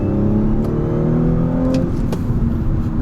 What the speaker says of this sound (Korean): 이 터빈 소리가 계속 그 잘 들리는 거